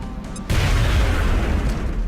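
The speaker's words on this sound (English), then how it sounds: "Grenade out." A grenade goes off in the XCOM video game: a sudden loud boom partway through, followed by a sustained rumbling blast that lingers and fades slowly.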